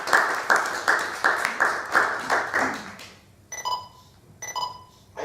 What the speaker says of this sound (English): So clap your hands for everyone on the stage.